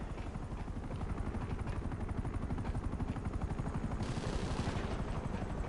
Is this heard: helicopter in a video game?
yes